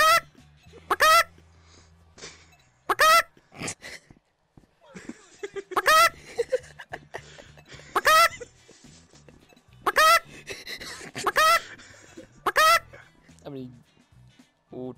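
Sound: chicken clucking in video game Rec Room

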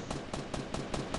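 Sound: gunfire in a video game

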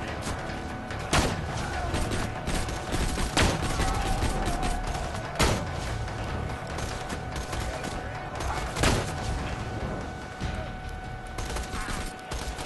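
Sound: sniper rifle gunfire in Borderlands 2 video game

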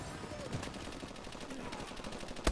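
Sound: ARX assault rifle gunfire in Call of Duty: Advanced Warfare video game

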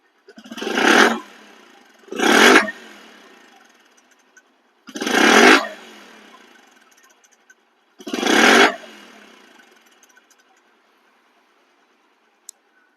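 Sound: Bajaj Platina 100cc motorcycle engine revving

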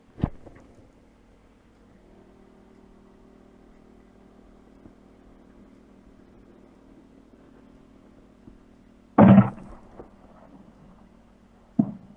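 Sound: mortar round firing

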